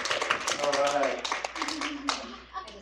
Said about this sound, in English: let's give Kim a big round of applause.